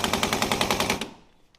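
Impact wrench rattling in rapid, evenly spaced bursts for about a second while tightening a bolt on the front suspension of a Mitsubishi Colt, then stopping abruptly, leaving a faint tail of quiet.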